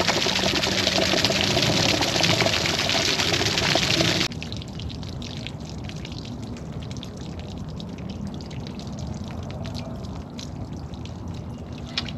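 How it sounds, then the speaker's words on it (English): Water draining from travel trailer plumbing through an opened drain cap, a loud, steady rushing pour for about four seconds that drops to a softer, continuous trickle and splatter. "And letting it drain."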